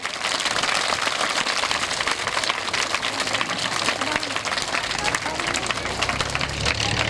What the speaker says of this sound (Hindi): जोरदार तालियों से ऐसे माता पिताओं का स्वागत करें